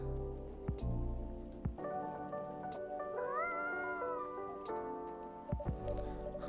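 A cat meows in the video game Coffee Talk, a few drawn-out rising and falling cries over soft background music and rain ambience.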